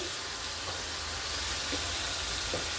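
Hilsa fish pieces go into a pan of spice paste fried with dry ground spices, giving a steady, fairly loud sizzling hiss with faint clinks.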